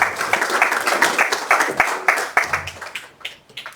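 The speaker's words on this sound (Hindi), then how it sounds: "इसलिए हम एक बार ताली बजाएंगे उनके लिए।" Audience at a Hindu temple gathering during Sharad Navratri claps for the event's sponsor, a close burst of dense, uneven applause that fades out over a few seconds.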